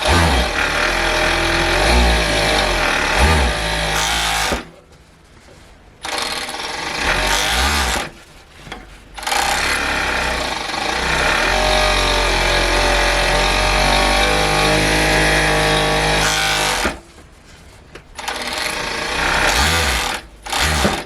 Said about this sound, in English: So that is our fabric overlocked